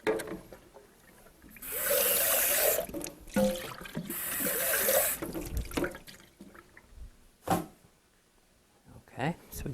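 A kitchen tap runs in two broadband bursts while a pot is rinsed during cooking of a chicken stew. Close water rushes alternate with quieter gaps, and a voice talks around them.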